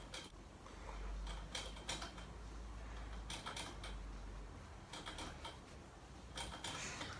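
Quiet, repeated clicking and rattling of metal balls in a guinea pigs' double-ball water bottle spout, coming in short bursts with pauses between, faint and nearby.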